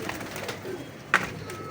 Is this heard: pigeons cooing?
yes